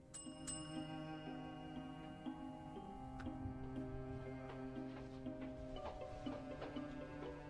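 A bell rung in the Cthulhu adventure game Gibbous, with sharp metallic strikes and long ringing tones that sustain and decay over a quiet musical background.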